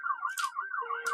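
An ambulance siren in the city-building game Cities Skylines 2, a wavering electronic wail that rises and falls steadily with a few brief hiss bursts, continuous and without speech.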